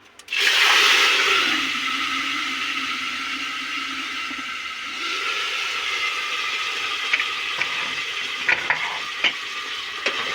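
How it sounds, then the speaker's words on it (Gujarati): Curry leaves and asafoetida tempering for moong dal hiss into a pan as a loud sudden sizzle, then keep crackling steadily for several seconds with a few sharp pops near the end. "આવી રીતે એનો કંઈક વઘાર કરવાનો હોય પહેલાં"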